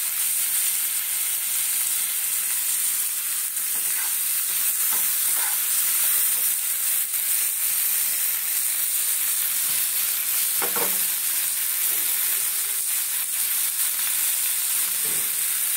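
Tomatoes fry in a hot pan for prawn malaikari, giving a steady, dense sizzle with occasional soft stirring scrapes throughout, with no voices.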